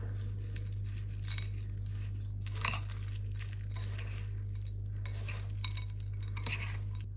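Food mixed with honey in a bowl, quiet intermittent clinks and scrapes of a utensil against the bowl over a steady low hum.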